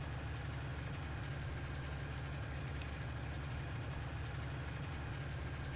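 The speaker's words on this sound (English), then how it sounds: "This is not a bad little tractor" The engine of a small tractor in Farming Simulator 19 runs at a constant, even drone, loud and close, with no breaks or changes in pitch.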